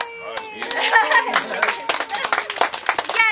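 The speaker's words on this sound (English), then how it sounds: "Big round of applause for our pod leaders" People at a Silicon Village camp meeting clap for their pod leaders, a scattered burst of individual claps mixed with cheerful voices calling out, close and lively for a few seconds.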